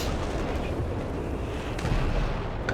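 Howitzer artillery fires in the World War II strategy game Company of Heroes 3, with dense, continuous rumbling booms and battle noise and occasional sharper cracks near the end.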